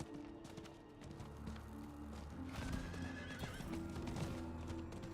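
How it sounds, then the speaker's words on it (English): A horse galloping in Diablo IV, with steady, quick clip-clop hoofbeats and a whinny, set against game music and ambience at a fairly low level. "I have a horse! Finally!"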